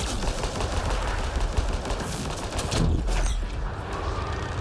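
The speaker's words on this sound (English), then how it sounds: "this pistol is really powerful" Heavy pistol gunfire in the sci-fi shooter Mass Effect Andromeda, a string of loud, close shots over dense game combat noise with no pause.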